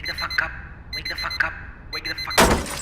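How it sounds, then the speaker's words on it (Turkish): An alarm clock in a Skibidi Toilet animation rings in repeated bright bursts, ending in a loud noisy crash, with voices talking underneath. "The alarm is broken now."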